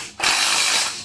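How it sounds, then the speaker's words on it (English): Power gun tightening the clamp bolts on a limited slip differential being fitted to a Squarebody truck: one loud, close ratcheting burst lasting under a second, with nothing else heard. "So just gonna make sure that these clamp bolts are tight."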